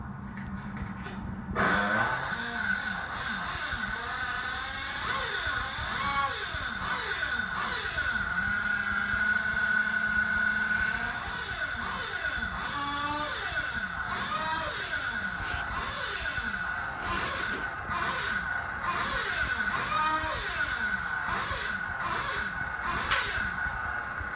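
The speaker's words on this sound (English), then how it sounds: "we're going to show you what it's like when the engine's a little bit too lean" An engine running too lean idles roughly with uneven, surging revs and pulsing bursts, continuous throughout and fairly close.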